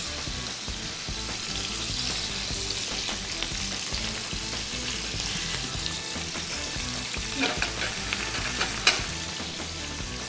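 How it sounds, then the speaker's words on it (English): Fish fried in a pan of hot oil with cumin seeds at medium heat, a loud continuous sizzle and crackle close by with a few louder pops toward the end. "So we have our fish cooking at a medium-ish temperature."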